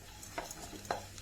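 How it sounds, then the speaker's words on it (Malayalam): Grated coconut and curry leaves roasting in a pan, with a faint dry sizzle and two short scraping stirs of a spatula against the pan, quiet and close. "പിന്നെ കുറച്ച് കറിവേപ്പിലയും ഇട്ടിട്ട് നമുക്കിതൊന്ന് വറുത്തെടുക്കാം."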